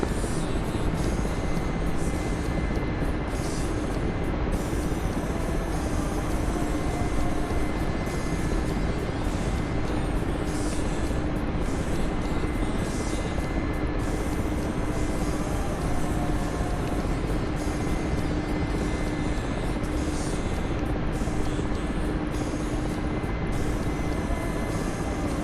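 Mi-8 helicopter flying in the DCS combat flight simulator game, a steady, loud, unbroken rotor and turbine drone that fills the whole stretch with no pauses and no talking.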